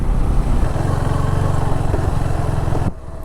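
A KTM 390 Enduro R single-cylinder motorcycle engine braking in first gear down a steep decline, giving a steady, loud, close droning rumble that drops away sharply near the end.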